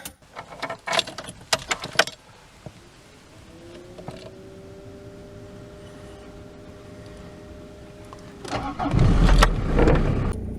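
A Citroen ZX 1.9 diesel sits quiet through some clunks and handling noises, then the starter whirs briefly before the engine catches and settles into a loud, rough, clattering idle.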